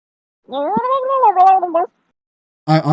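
A cat meows in a long, drawn-out wavering cry, close and loud. After a brief pause, the start of a second meow cuts in.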